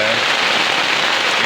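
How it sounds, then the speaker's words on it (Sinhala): Heavy rain driven by wind pounds steadily on a camp at night in the Salalah mountains, a dense, loud, unbroken hiss close by. "හුලං ගහ වහිනවා"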